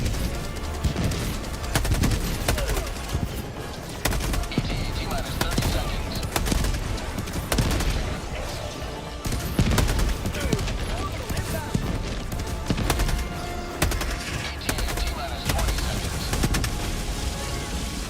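Rapid bursts of gunfire crack one after another, a sustained fusillade of overlapping shots at moderate distance, with faint voices between volleys.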